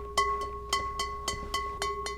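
Eight light taps on a Korean clay earthenware pot (ttukbaegi), each giving a clear, sustained bell-like ringing tone, spaced evenly about a quarter second apart.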